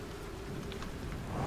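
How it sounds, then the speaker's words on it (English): An approaching storm in the Outer Wilds video game brings a steady hiss of rain with a low rumble of thunder underneath, continuous and fairly loud, swelling slightly toward the end with no speech. "Oh, storm is getting close."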